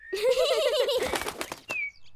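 Cartoon birds flap their wings in a Spanish-dubbed Peppa Pig Halloween episode, a fluttery burst with soft cooing and chirps. A character voice runs over the first half, and a sharp whistle-like call comes near the end.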